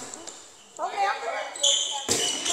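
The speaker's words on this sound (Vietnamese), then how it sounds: "Đập bóng tốt." A volleyball is spiked during a men's club match in Vietnam, heard as a sharp impact followed by another hard hit amid arena crowd noise.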